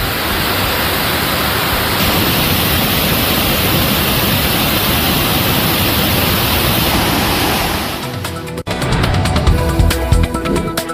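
Kumbakkarai waterfall swollen after rain, a loud, steady broadband roar of rushing water filling the scene, broken near the end by a sudden cut and rougher, clattering noise.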